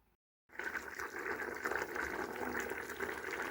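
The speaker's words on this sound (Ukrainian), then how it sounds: "Кабочки по-польськи вже киплять." Pot of Polish-style squash (zucchini) boiling on a stove, a steady bubbling, gurgling wash that starts after a brief silence and continues evenly up close, with no talk.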